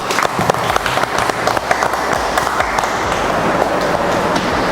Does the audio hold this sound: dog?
no